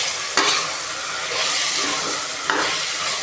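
Chicken biryani masala with coriander and mint is stirred in a pressure cooker, a loud, steady frying hiss broken by two sharp scrapes of the spoon; no talking.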